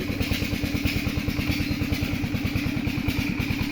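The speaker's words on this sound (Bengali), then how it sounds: "এখনই মেশিন স্টার্ট শুরু হয়েছে" A machine engine runs steadily at close range, a continuous low mechanical chugging with a fast regular pulse and a rattling clatter, with no speech over it.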